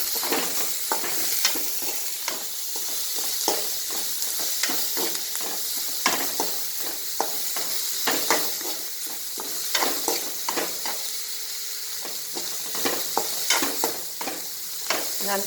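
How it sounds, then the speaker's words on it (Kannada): Boiled ivy gourd tossed with turmeric in a hot pan for a North Karnataka-style palya, a soft continuous sizzle broken by repeated close scraping and clacking of a spoon against the pan. "ಬೇಯಿಸಿದ ತೊಂಡೆಕಾಯಿಯನ್ನು ಇದಕ್ಕೆ ಹಾಕಿ ಮಿಕ್ಸ್ ಮಾಡ್ಕೊಳ್ಳಿ ಚೆನ್ನಾಗಿ"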